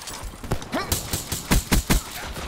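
Rapid series of muffled, suppressed shotgun blasts in Call of Duty Black Ops 3, about eight close thumping shots in quick irregular succession over a low game background.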